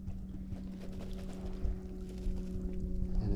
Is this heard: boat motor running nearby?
yes